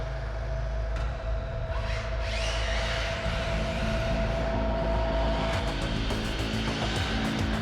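Whirring drivetrain of an ARRMA 1/7 scale RC car, its spur gear grinding metal on metal, runs loud and continuous with a low rumble, a rising whine near the start and sharper rattling bursts toward the end.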